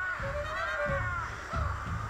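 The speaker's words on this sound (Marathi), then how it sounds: "किती कावळे येले बघितलंस ना" Crows caw repeatedly outdoors, several harsh calls overlapping at moderate distance with a low background rumble and no talk.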